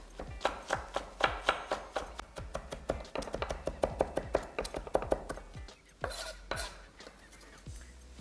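A knife finely chops green chilies with seeds left in on a cutting board, a close, quick rhythmic series of sharp taps that pauses briefly near the end before a few final cuts.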